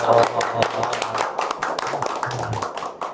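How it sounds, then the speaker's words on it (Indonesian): Audience applause at a talk by the regional secretary of Blitar city, a dense patter of many hands clapping nearby, mixed with voices speaking and murmuring throughout. "tepuk tangan dong"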